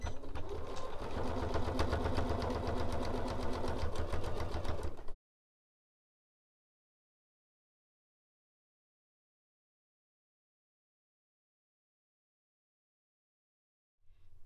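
A sewing machine stitches fabric for a Christmas cathedral window patchwork, running in a fast, steady, close mechanical whir for about five seconds before falling silent.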